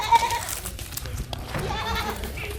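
A goat bleats in a rural Awadhi village setting, short wavering cries close by among faint background voices and outdoor noise.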